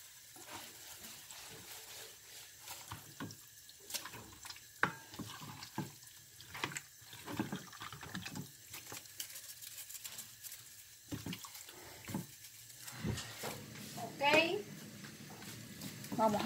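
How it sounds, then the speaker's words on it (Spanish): Water runs from a tap into a sink while someone washes their hands in a home kitchen during the cooking of Cuban-style duck in sauce, a soft continuous splashing under steady talking. "déjenme lavarme las manos"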